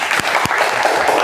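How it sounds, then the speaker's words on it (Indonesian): Classroom applause for a student presenter, a short burst of dense clapping from a group of pupils, fairly close and loud, with a couple of sharper individual claps. "Tepuk tangan buat temannya."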